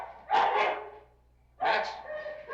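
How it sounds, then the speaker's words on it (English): A dog barks in two separate bursts about a second apart, close and fairly loud, in a dramatic indoor scene. "Put the dog away, Longstreet, or I'll kill him."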